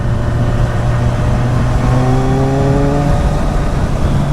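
Kawasaki Z1000 Sugomi motorcycle accelerating in sixth gear, a loud, continuous engine roar with a steady drone and a brief rising whine partway through, no talking.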